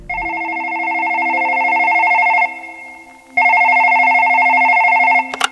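A telephone rings for an incoming call, loud and close: a long warbling ring, a brief silence, then a second long ring cutting off abruptly, with no voices.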